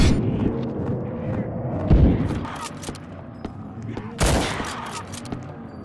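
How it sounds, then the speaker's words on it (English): Shotgun blasts boom in a video game, a few heavy, separated shots with one especially loud burst late on, over a busy, muffled background of game noise. "Switch to the goddamn shotgun."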